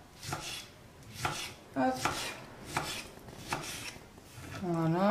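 Knife finely chopping tomatoes on a cutting board, a sequence of about six crisp, evenly spaced cuts close by, with one short spoken word partway through and a brief voice at the end.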